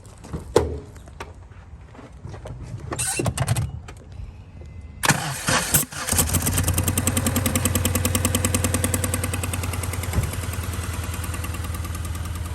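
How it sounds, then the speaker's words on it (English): A Honda car engine cranks with a few clicks and catches at about six seconds, then runs in a steady, rapid pulsing idle, with air puffing out of an open spark plug hole in a cylinder. "I'm gonna start the engine, listen to the air coming out the cylinder."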